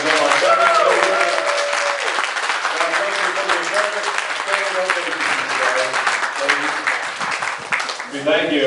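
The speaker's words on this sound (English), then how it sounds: "Do we have a round of applause?" Campaign-event audience applauding veterans over Veterans Day weekend, a loud sustained round of clapping with voices and cheers layered through it, fading slightly near the end.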